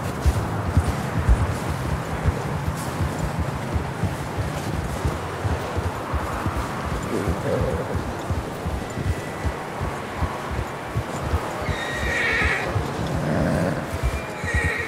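Horse neighs and clip-clopping hooves in the Red Dead Redemption 2 video game, heard against a busy outdoor soundscape with rustling, with a whinny rising near the end.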